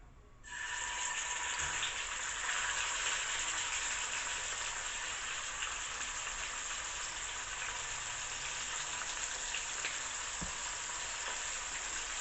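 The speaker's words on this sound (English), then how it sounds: "And now I will fry it in the pan." Seared sous vide meat sizzles and fries steadily in a hot pan, a loud, continuous hiss starting abruptly and holding throughout with no talk.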